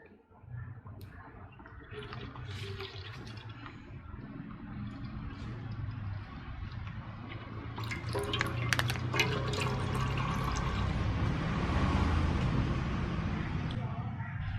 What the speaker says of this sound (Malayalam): ഇതിലേക്ക് നമുക്ക് ഓയിൽ ഒഴിച്ചു കൊടുക്കാം